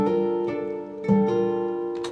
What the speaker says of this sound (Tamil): ப்ளக்டு நைலான் கிட்டார் அப்படின்னு ஒன்று இருக்குது பாருங்கள்.